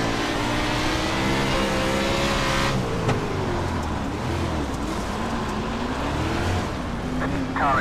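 Sprint car engines from a World of Outlaws race at Williams Grove Speedway in iRacing roar loudly and continuously, a dense pack of revving motors with shifting pitch and no pauses.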